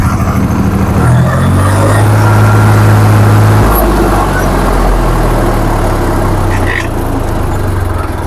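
Loud, steady diesel engine of a 2017 commercial vehicle running close by, a rough low rumble with a brief rev and rising tone early on, then settling to an even idle, with no talking.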